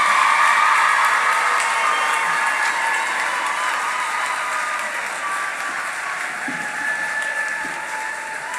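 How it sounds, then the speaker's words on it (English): Graduation-ceremony audience applauding the agriculture class of 2016, a broad, steady wash of clapping that holds at an even level throughout. "your class of 2016, a round of applause for everybody"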